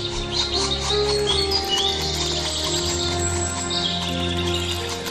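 Black woodpecker chicks calling in a dense forest, giving thin, high chirps against a steady tonal background that could be music or ambience.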